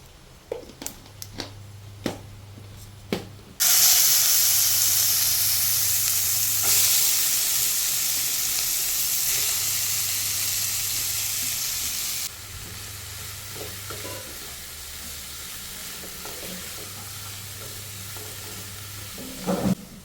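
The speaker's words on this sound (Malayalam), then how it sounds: "കടുക് പൊട്ടിക്കാം" Mustard seeds in hot coconut oil burst into a loud, steady spluttering sizzle after a few quiet seconds of faint clicks, then continue at a lower level for the rest.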